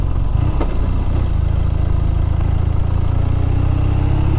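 BMW R nineT 719 motorcycle engine while riding: a steady, loud, low rumbling drone with wind noise, continuous throughout and without any talking.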